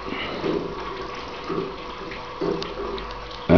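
Steady water splashing from a laminar water jet driving a polished, mirror-finished water-powered pendulum clock, with soft periodic surges of trickling and a sharper splash at the very end.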